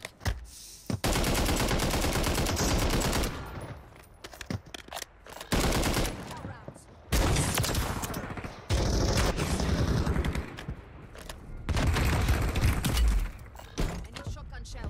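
Heavy shotgun blasts from the Lockwood 300 in the Warzone video game, loud and repeated in dense bursts across the whole stretch, with brief quieter gaps and talk mixed in.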